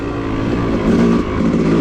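A dirt bike engine drones steadily and close on an off-road trail in hot, humid summer weather. A low, continuous hum swells slightly midway, with no clear shifts or pauses. No talking.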